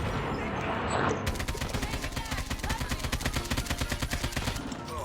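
Rapid automatic gunfire from an AK-47 in the Call of Duty Mobile video game, a steady stream of sharp repeated shots starting after a second and continuing to the end.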